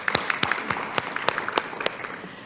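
Audience applause at a community candidates forum in Phoenix, heard as scattered, fairly sparse claps of moderate loudness that continue steadily for a few seconds with no talking.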